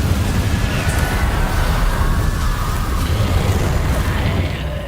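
Incendio fire spell cast in Hogwarts Legacy: a dense, steady roaring burst of flame with low rumble, sustained and loud for several seconds before tapering slightly at the end.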